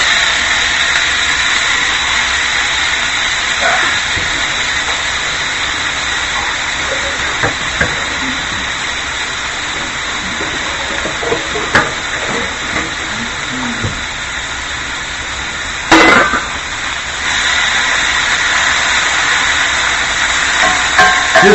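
Onions sizzle loudly in a hot pan, a steady, dense hiss that runs unbroken throughout, with a brief clatter of a utensil partway through and no voices.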